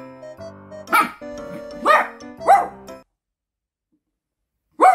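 Several short, sharp dog barks or yips come in separate bursts, close and loud with pauses between, from a Siberian husky or Shiba Inu indoors, one bark landing after a stretch of silence.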